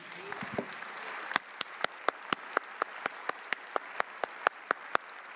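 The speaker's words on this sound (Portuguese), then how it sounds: "Você pode aplaudir a palavra de Deus?" A church congregation claps in a steady rhythm, sharp evenly spaced hand claps ringing out after a few faint early sounds, moderately loud in a reverberant room.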